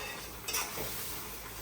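Egg and papaya dish bubbling and sizzling in a pan, a quiet continuous crackle with a brief stirring clatter around the middle, no talking.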